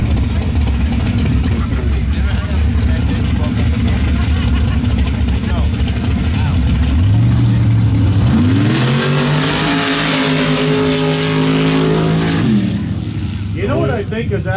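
Pro modified mud drag race cars in Mitchell, South Dakota, loud engines rumbling and then revving into rising whines as they launch, with a constant background roar throughout.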